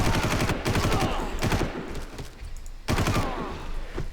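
Gunfire in the video game Far Cry 1 comes in several loud, close bursts of rapid shots, separated by short gaps with reverberant tails.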